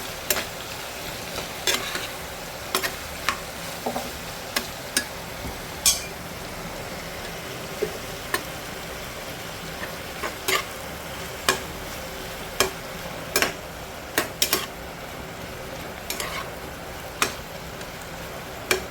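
Raw banana curry seasoned with salt and turmeric fries in a pan under an even, close sizzle, punctuated by irregular sharp clicks of a spoon stirring and scraping from the bottom.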